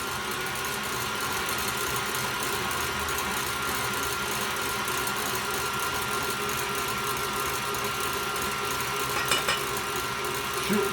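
An electric kitchen mixer beats egg whites for sugar-free meringue, giving a loud, steady whirring drone that runs throughout at close range with little variation.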